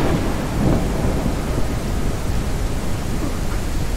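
Heavy rain pours steadily with rolling thunder rumbling underneath in a video game, a dense, continuous roar of noise with no voices.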